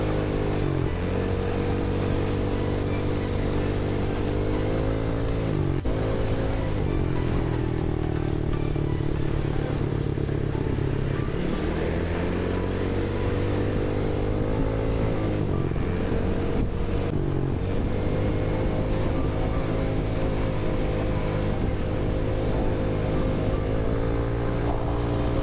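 Riding solo on a motorcycle through traffic, the engine drones steadily up close, with its pitch rising and falling as the bike revs and shifts, over a constant wash of road noise.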